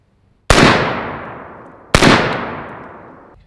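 Two loud, sharp gunshots from an unsuppressed 16-inch AR10 rifle, each a hard crack followed by a long, fading echo, spaced about a second and a half apart.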